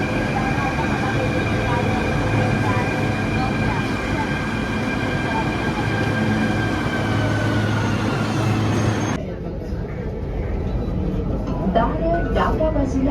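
A crowded Mumbai metro train runs from Andheri to DN Nagar with a steady loud rumble and electric whine. The tone shifts abruptly partway through as the carriage sound changes, and chatter and announcements sit under it.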